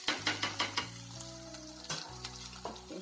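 Paneer is added to tomatoes frying in a pan: a steady close sizzle with a few sharp stirring taps early on, then a brief pause before the sizzling continues.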